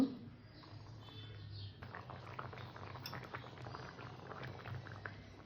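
Sabudana khichuri with potato, pumpkin and other vegetables simmers in a pot, a soft close bubbling with occasional light clinks of utensils, faint overall.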